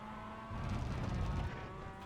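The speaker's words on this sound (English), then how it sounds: "light dab on the brakes, and then we're down to first, and we're wanting to get on the gas at the apex once again" A Mazda MX-5 race car in the iRacing simulation at Okayama circuit, its engine note rising into a louder rev burst midway after braking and a downshift to first gear, steady and close throughout.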